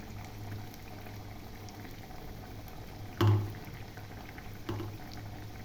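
Sabudana vada fry in hot oil until brown, giving a soft, continuous bubbling sizzle, quiet and steady, broken by two brief utensil knocks.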